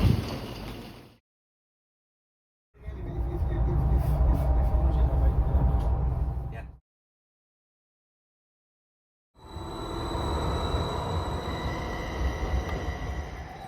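Train rumble and rolling rail noise at Dullingham, a tiny railway station, in bursts separated by silent gaps, a low heavy roar with some higher squeals, fairly close.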